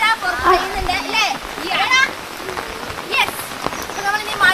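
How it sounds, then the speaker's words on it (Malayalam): Heavy downpour drumming at a bus stop, a constant close rush of rain under several voices talking throughout. "അപ്പൊ നല്ല പെരുമഴ പെയ്യുന്നുണ്ട് അല്ലേ?"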